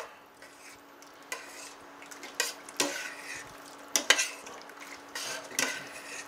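Beef stew with a jar of pasta sauce is stirred in a pot, producing repeated spoon scrapes and clinks against the metal at an irregular rhythm, close and fairly loud over a low background.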